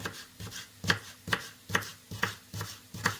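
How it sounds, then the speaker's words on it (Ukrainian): Carrots being chopped into small pieces on a cutting board, a steady run of about eight sharp knife knocks at an even rhythm, close and clear with no talking. "І нарізаємо моркву"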